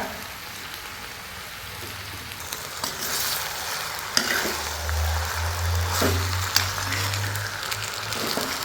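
Chicken pieces hit hot oil with fried onions for a spicy chili chicken, giving a continuous close sizzle and crackle with occasional clatter and stirring.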